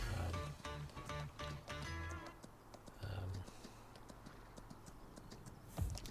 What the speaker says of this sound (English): when you're riding a horse in the game, it's about how long you ride the horse.